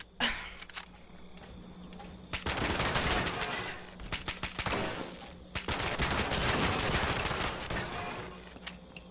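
Automatic gunfire from the video game Fallout 76 comes in two long, dense bursts of rapid shots, loud and close, separated by a short lull with scattered single shots.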